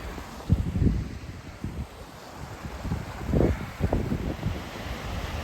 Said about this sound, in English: there's a bit of a cataract here